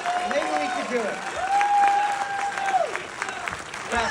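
An audience claps hard in a steady burst of applause that runs through the whole stretch, with a sustained tone and voices mixed in.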